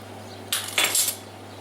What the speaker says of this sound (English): So I scoop into my salt and then use a knife blade to go across the top to make sure it's nice and even